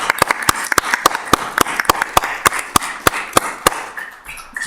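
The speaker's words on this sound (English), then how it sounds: "Big round of applause for those guys." A small group claps for volunteers at a city council meeting, a sparse, uneven run of sharp hand claps that fades out toward the end, with no talk over it.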